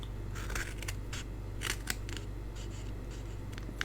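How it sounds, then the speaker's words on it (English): Scissors snip through folded cardstock in a quick series of crisp, close cuts at an irregular rhythm, with no one talking. "if you want to fold your cardstock in half, you can cut them"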